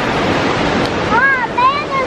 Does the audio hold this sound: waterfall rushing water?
yes